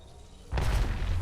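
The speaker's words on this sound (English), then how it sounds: "Grenade." A grenade goes off in the Apex Legends battle royale shooter: after half a second of quiet game ambience, a loud, close, low boom bursts in and rumbles on to the end without fading.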